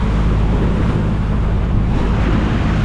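Rough sea waves and wind roar continuously at sea from a fishing boat, a loud, dense, unbroken wash of surf and wind buffeting with no voices.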